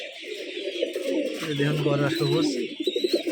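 Giribaz pigeons at a Rajshahi loft coo in a low, rolling burst partway through while someone speaks nearby over them.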